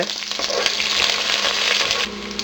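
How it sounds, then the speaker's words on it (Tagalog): Onion frying in hot cooking oil for a Sinigang na Bangus sa Miso, giving a steady, close, dense sizzle with faint crackles that holds throughout, no voices. "Once na mainit na yung cooking oil, ilalagay na natin dito yung onion. Lulutuin lang natin yung onion sandali"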